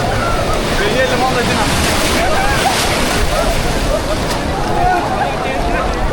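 Sea waves roll onto the beach at Cox's Bazar, a steady broadband wash of surf with wind buffeting the microphone, continuous and fairly loud throughout.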